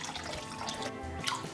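Tank water poured by hand into an aquarium, a faint close splashing and trickling that runs steadily with a few louder splashes near the end, no voices.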